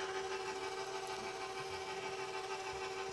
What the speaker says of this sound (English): So now I'm going to stop my mixer